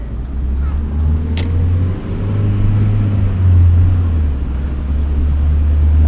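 A 1979 first-generation Honda Prelude drives along steadily, its low engine and road drone loud and close throughout, with the pitch rising gently midway and no talking over it.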